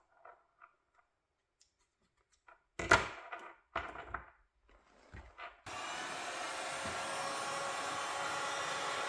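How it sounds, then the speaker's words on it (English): Heat gun blowing to shrink heat shrink tubing over tape on a portable sawmill digital readout installation, a few handling knocks and clicks, then a steady loud blowing roar starting midway and continuing to the end. "I could put some tape on this end and then heat shrink over it."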